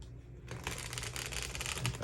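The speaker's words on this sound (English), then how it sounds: "One more shuffle, then we'll draw." Soft, papery riffling of cards being shuffled, a steady flurry of light slaps and flicks close by, with no talking.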